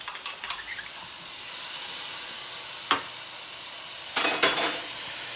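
Onions and garlic sizzle in a hot pan for tacos, a steady close frying hiss broken by a few brief scrapes and clinks of stirring.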